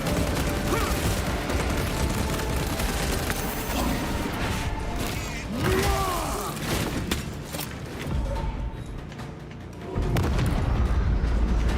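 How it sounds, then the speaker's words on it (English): A frag grenade blast in Warhammer 40,000: Space Marine 2 erupts amid dense, continuous battle noise of booms and gunfire, the loud mix rolling on with rumbling low-end surges throughout. "Frag grenade out."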